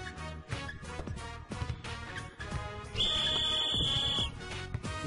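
A sustained electronic buzzer tone sounds for over a second in the basketball scene of the Persona 4 video game, loud over busy game music that continues underneath.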